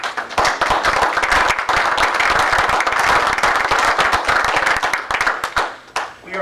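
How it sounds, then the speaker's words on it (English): A loud, dense round of applause from a borough council meeting audience honoring the search and rescue team, many hands clapping steadily for several seconds before tapering off near the end. "a round of applause for Bernie as he..."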